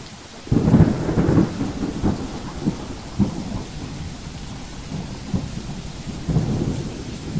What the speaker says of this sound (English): I've also added relaxing sounds of rain to help you fall asleep and stay asleep.